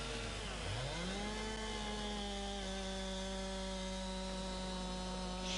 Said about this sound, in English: it's so loud, the chainsaw.